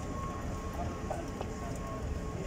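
Train noise at Union Metro Station on the Dubai Metro, a steady low rumble of a metro train with a faint tonal whine and light clatter, continuous and fairly close throughout.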